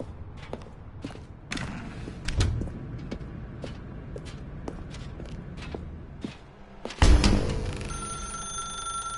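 In the video game The Stanley Parable, quiet footsteps and creaks are followed by a sudden loud telephone ring near the end, with its bright tone lingering.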